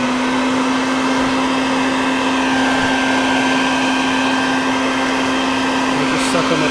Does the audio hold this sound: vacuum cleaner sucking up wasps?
yes